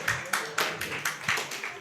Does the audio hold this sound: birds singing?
no